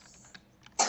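A brief, sharp cough close to the microphone ends a moment of quiet, with a few faint clicks before it, during a Minecraft Hunger Games play session.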